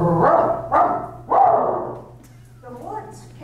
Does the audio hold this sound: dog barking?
yes